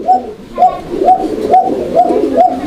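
Raj-golla pigeons coo in a steady series of about six rolling calls roughly half a second apart, close and clear over a soft background murmur.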